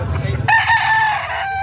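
A gamecock crows once at a rooster sale, a loud near drawn-out call rising over background murmur of the crowd.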